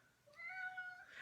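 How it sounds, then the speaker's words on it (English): A pet cat gives a single short, faint meow, close by and alone in a quiet room. "My cat said, yes, he's lucky."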